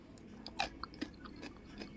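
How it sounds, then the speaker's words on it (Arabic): Crunchy raw onion chewed alongside Egyptian bessara (fava bean dip), with a few close, sharp crunching bites in quick succession over quiet room noise. "طبعا البصل مقرمش"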